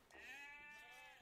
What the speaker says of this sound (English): There's another sheep over there,